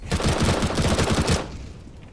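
Rapid automatic gunfire from the video game Gunfire Reborn rattles out in a dense close burst for over a second, then cuts off and leaves a faint tail.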